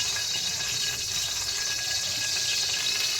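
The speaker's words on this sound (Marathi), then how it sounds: "पण असं ऑइल फुटल्यानंतर त्याचा असा आवाज येतो जोरात." Water drops hit hot mustard oil in a pan for a black-masala drumstick curry, giving a loud, steady, close sizzling hiss that barely changes over a few seconds, with no talking.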